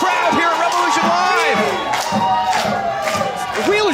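Wrestling crowd at the Revolution Live venue during an NWA Powerrr show, a loud, dense roar of cheering and whooping voices rising and falling throughout, with commentators talking over it.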